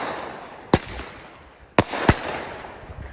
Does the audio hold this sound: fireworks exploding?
yes